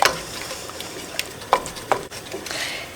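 Lemon ginger marmalade stirred in a pot as it comes to a boil, with scraping spoon strokes against the pot and soft bubbling and sizzling, close and moderately loud, with a few sharper knocks.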